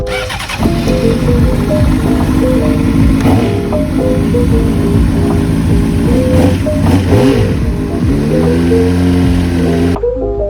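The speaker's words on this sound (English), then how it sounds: "so I just have my bike on and revving it a little bit" A Honda CBR 600RR sport bike engine runs loud and close after a start, with repeated throttle blips rising and falling in pitch before cutting off abruptly near the end.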